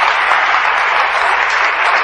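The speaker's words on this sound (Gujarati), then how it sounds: "તમારે તાળી વગાડવી પડશે" Dense, continuous clapping from a crowd gathered at Bhakti Niketan Ashram in Dantali, loud and even throughout with no voices over it.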